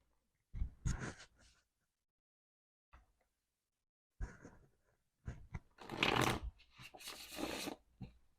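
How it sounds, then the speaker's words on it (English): A new tarot card deck being shuffled in hand, with bursts of riffling and flicking that come and go between pauses, close and fairly quiet. "I'm so excited to shuffle this."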